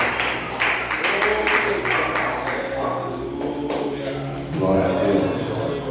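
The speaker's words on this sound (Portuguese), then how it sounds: "uma salva de palmas." A church congregation bursts into applause, a run of scattered claps rising and swelling toward the end, heard alongside voices and a low musical drone.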